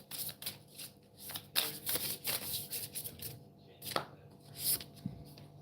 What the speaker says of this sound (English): Maybe I have to shuffle another way around,